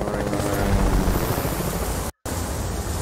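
Helicopter in the video game Fortnite, a loud, steady broadband rotor and engine roar filling the whole stretch, briefly cutting out near the end before resuming.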